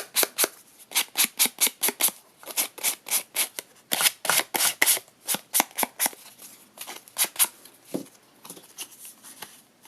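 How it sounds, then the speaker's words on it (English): Rapid rhythmic rasping strokes of sandpaper along the edges of a black and gold sequin banner, close and crisp, in quick bursts with short pauses, no talking. "Let's go ahead and sand the edges of the banner here."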